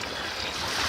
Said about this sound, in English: in these conditions, the waves are coming from the left behind me